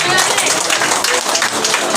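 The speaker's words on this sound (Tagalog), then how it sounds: "Isang malakas na palakpak po ulit para naman kay J.I." A loud round of applause from a church congregation, continuous close clapping with crowd noise throughout.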